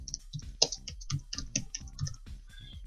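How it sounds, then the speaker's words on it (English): Rapid clicking keystrokes on a computer keyboard, close and fairly quiet, in an irregular rhythm of taps with brief pauses, no voices. "let's say you type some text"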